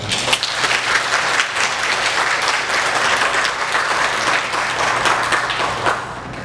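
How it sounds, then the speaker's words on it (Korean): A church congregation applauds to welcome visitors during a Sunday service. The clapping is loud, close and continuous, many hands together with a low hum underneath throughout. "제가 박수로 환영하겠습니다"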